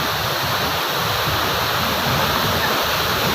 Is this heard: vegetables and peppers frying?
no